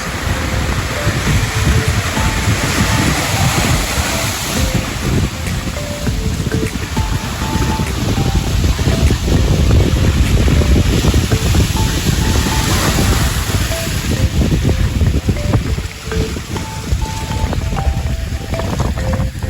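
Loud, constant wind buffets the microphone on a sandy beach with coral shoals, with a broad rushing wash of surf underneath and no voices.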